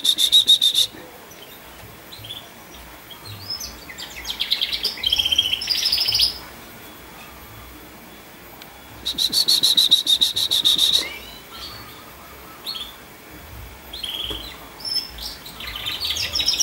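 A canary chirping in bursts of rapid, high trilling song that start and stop over the whole stretch, with insect buzzing and faint background chatter beneath.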